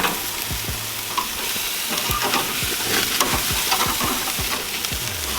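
Pork chops sizzle on a grill right after being flipped, a steady close hiss of fat and searing meat with scattered soft crackles and pops, no talk over it.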